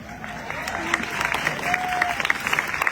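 Audience applause at an Earth Day environmental hero award ceremony, with steady moderate clapping from a crowd and a few brief whistles rising over it for about three seconds.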